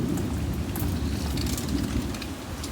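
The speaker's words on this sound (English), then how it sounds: "Got a big old storm coming." Heavy rain pours steadily in a dark late-morning Florida thunderstorm in May, a constant close hiss with low rumbling underneath that may be thunder, and no voices.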